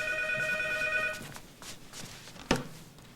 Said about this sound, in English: she may not be answering the phone